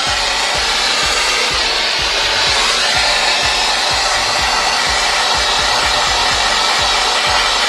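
A hair dryer blows steadily and loudly while drying a stained 11-inch sycamore bowl on a woodturning lathe, with a regular soft thumping rhythm beneath the constant whoosh.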